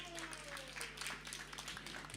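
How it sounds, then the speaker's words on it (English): Faint, scattered audience applause at a forum, thin and uneven, with a low electrical hum and some background noise underneath. "please give Mr. Aiden Teh a big round of applause."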